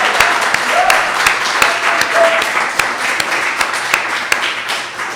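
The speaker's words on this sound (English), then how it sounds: "could we just have a round of applause for Jennifer Harris and the other?" Audience applause at a poetry reading during a festival in a wine bar, steady clapping from a moderate crowd sustained through the whole stretch with sharper individual claps standing out, no speech over it.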